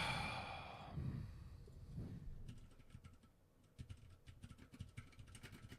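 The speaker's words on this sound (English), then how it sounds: "get that typing going" Computer keyboard typing in a room, a rapid run of light, irregular key clicks in the second half after some breathy rustling, fairly quiet and with no talk over it.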